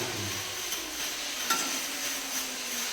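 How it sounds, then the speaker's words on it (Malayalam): Masala of onion, garlic, ginger, tomato and curry leaves fries and is stirred in a pan, a steady close sizzle with faint scraping of the spoon, no talking. "നമുക്ക് മസാല എല്ലാം കൂടെ ഇട്ട് വരട്ടിക്കൊണ്ടിരിക്കുകയാണ്"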